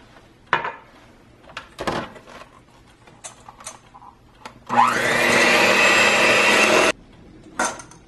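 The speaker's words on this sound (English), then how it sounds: "now I'm going to turn the mixer on again, which is not so fun" After scattered clinks and handling noises, an electric stand mixer mixing gluten-free sugar cookie dough whirs loudly and steadily for about two seconds, then cuts off, followed by a light clatter.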